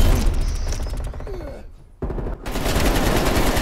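FFAR rifle fire in Call of Duty: Black Ops Cold War on Nuketown team deathmatch, with loud, rapid automatic bursts up close, a brief lull with faint distant action, then another long fast stream of shots.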